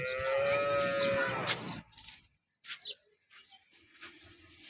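A dairy cow gives a loud, close, drawn-out moo lasting nearly two seconds, then the farm goes quiet apart from faint scattered knocks and shuffling.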